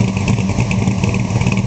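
A 600 hp 1955 Chevrolet Bel Air resto-mod engine running steadily with a deep, throbbing rumble, close and loud, with no talking.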